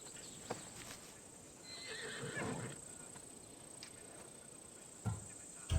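A horse whinnies in a long rising-and-falling neigh in the video game Assassin's Creed Odyssey, with a few hoof clops and thumps near the end over a faint steady hum.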